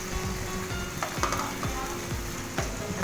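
Cumin and whole garam masala frying in oil for beef kaleji, a continuous close sizzle with several soft stirring strokes, alone without talk.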